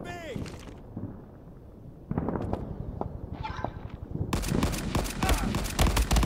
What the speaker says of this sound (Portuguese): Ó, tá vendo os tiros?